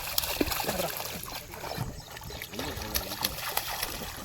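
A child swims during a lesson, with soft splashes and trickling water from kicking legs and arm strokes, irregular and close by, and a voice intermittently audible over the water.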